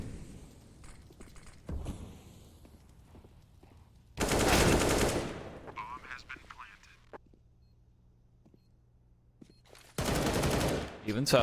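Counter-Strike: Global Offensive gunfire during a pro match on the Vertigo map, with two dense, loud bursts of rapid automatic fire separated by a stretch of commentary and game sounds; a commentator talks over much of it.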